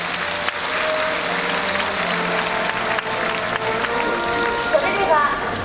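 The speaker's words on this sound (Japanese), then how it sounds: "皆様、新しい親善大使にもう一度拍手をお送りください。" Audience applause for a newly appointed goodwill ambassador at the eve festival of the 2017 Hakata Dontaku Port Festival in Fukuoka, a steady broad wash of clapping lasting throughout, with crowd noise and some voices mixed in.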